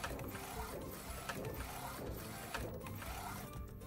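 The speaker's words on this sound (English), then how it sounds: "This is McLaud continuous printing." McLaud MP1812 DTF printer running continuous printing: a steady, busy mechanical clatter of gears, ratcheting and shuttling print-head movement, with faint rhythmic clicks throughout, moderately quiet and without talk.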